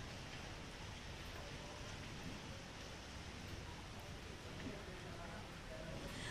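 Heavy monsoon rain pours down in Jaipur, a steady, enveloping wash of noise that holds evenly throughout at a moderate level, with faint speech beneath it.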